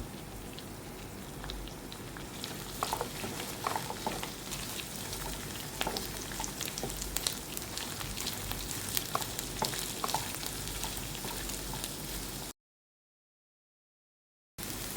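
Shallots, curry leaves and chili powder fry in oil for a chutney, making a steady close crackling sizzle with scattered pops and stirring taps that cuts out briefly near the end.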